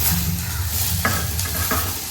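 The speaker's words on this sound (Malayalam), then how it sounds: "ഇതാ ഈ കറിവേപ്പില കൂടി ഇനി ഇട്ട് കൊടുക്കാം" Dried curry leaves fry in a hot pan of salted oil, a steady dense sizzle with a few sharp crackles and stirring scrapes, close and continuous throughout.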